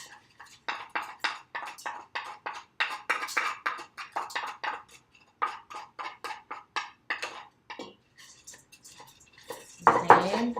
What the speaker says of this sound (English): you start off by adding your rice